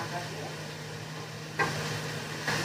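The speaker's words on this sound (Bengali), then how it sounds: "পটল ভাজা হতে চললো" Pointed gourd frying in a pan, a faint steady sizzle with a low hum beneath and two brief louder bursts, likely stirring.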